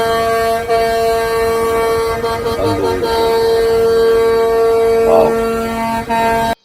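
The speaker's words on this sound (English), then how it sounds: "You're gonna hear a lot of honking horns" Truck air horns blare at the Ottawa trucker convoy, a loud, continuous honking of several overlapping horns that runs almost the whole time, with brief breaks and shifting pitches.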